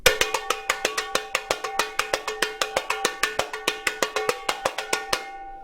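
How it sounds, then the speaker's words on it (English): Tamborim played in virada style for Brazilian samba, a rapid stream of bright, sharp, metallic-sounding clicks in a steady even pulse with a few accented strokes, close and clear, with no voice, ending abruptly. "In the virada style playing of tamborim, which sounds like this"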